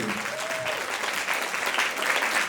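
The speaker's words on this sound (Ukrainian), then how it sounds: "Дайте оплески в першій музичній." Audience applause fills the hall at a children's music school concert in Poltava, following a button accordion orchestra performance; steady, dense clapping throughout, with a brief voice or whistle near the start.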